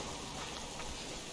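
Steady rain falls across an outdoor landscape in the survival game Subsistence, a soft, even hiss that fills the clip without a break, fairly quiet and with no voices over it.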